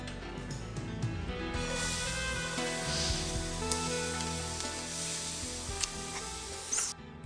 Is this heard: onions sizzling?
yes